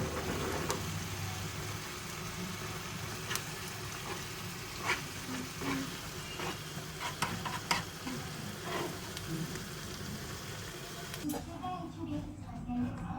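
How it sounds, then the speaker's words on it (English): Salted food stirred in a pan while spaghetti cooks, a steady sizzle with scattered scraping and clinking clicks of the utensil, close up, with a person talking at times. "I add salt and mix."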